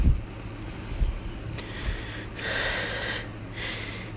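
A voice imitates panting, producing short, breathy, wheezing huffs that repeat in a loose rhythm, faint and close, with no clear words.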